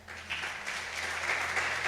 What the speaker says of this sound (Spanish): ¿Cuántos le dan un aplauso a Jesús?